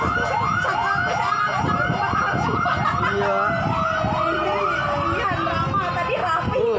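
Wailing fire truck sirens rise and fall continuously, loud and fairly close, over rumbling traffic and faint voices, as several fire engines arrive at a boarding-house fire in Kuningan, South Jakarta.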